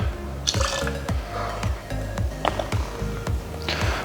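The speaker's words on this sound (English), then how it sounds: "we're going to do about 30 mils of lemon juice" Lemon juice being poured and measured for a whiskey sour, with close liquid trickles and drips mixed with light clinks and taps.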